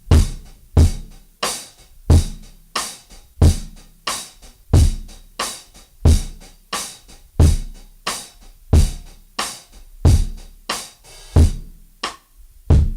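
A drum kit plays a steady groove with every hit landing dead in the center of the beat, the kick, snare and hi-hat locked together in an even, repeating pattern, loud and close with no voices.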